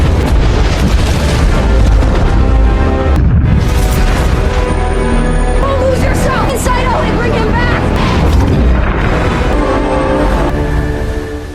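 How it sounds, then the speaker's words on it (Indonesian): A bomb detonation from the film Inception: a loud, sustained, rumbling boom filling the whole clip with dense low-end roar and layered cinematic sound, with mixed score and effects and no clean break in the noise. "Bom pun diledakkan oleh Eames."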